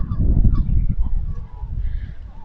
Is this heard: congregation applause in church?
no